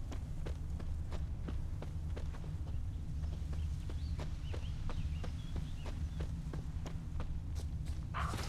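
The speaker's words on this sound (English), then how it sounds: "That's his horse." Horse hooves clip-clop at a steady walking rhythm in The Witcher 3 video game, regular close thuds over a constant low ambient rumble, with no talk.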